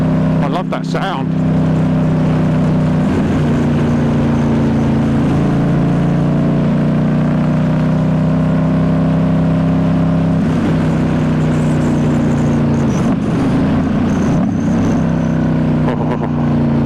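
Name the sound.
2019 Ducati Diavel S motorcycle exhaust revving, slip-on exhaust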